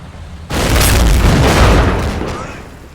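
A heavy explosion in the World War II strategy game Combat Mission: Final Blitzkrieg, as burning material detonates: a sudden loud boom that rolls and rumbles for a couple of seconds before slowly fading.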